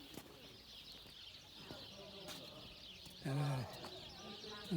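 Birds call and chirp intermittently in the open air at Paşabağları among the fairy chimneys of Cappadocia, Turkey, with a brief fluttering and a nearby voice talking partway through.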